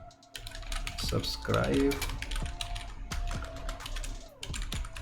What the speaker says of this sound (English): I will just simply type a print here